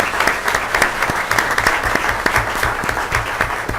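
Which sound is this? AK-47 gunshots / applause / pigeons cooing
applause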